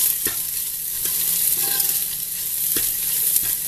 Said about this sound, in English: Now I will add green chili and ginger. Stir it for 20 to 30 seconds.